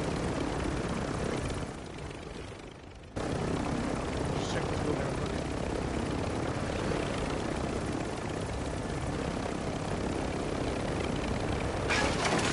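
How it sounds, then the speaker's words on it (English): A helicopter flying in a video game, its rotor and engine drone loud and steady throughout, briefly dipping before resuming, with voices talking over it. "I just crashed the chopper anyway"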